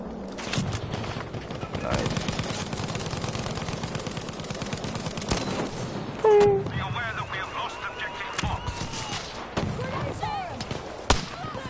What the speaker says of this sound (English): Oh, we're shooting grenades over there.